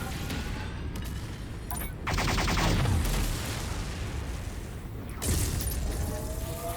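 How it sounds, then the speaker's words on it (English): Gauss rifle shots from a mech in MechWarrior 5, two heavy, loud discharges a few seconds apart over a constant roar of combat and machinery. "Trying to get some headshots with the Gauss"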